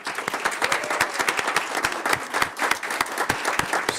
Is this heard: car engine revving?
no